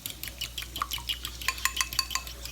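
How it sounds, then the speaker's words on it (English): A small fork beats egg yolks in a bowl, quick rhythmic clinks and scrapes of metal against the dish repeating steadily at close range, with no talking over it. "best thing I have to use is a little fork. Now, I'll break up the yolk nice and good."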